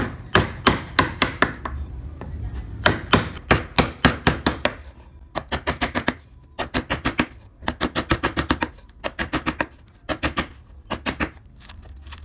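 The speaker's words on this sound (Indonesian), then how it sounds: "Untuk cembungan sekarang saya tunjukkan menggunakan pahat penguku lagi" Wood carving with a gouge chisel struck by a mallet, shaping a convex curve: loud, sharp taps fired in quick bursts of four to eight, pausing briefly between runs, close and steady throughout with no talking.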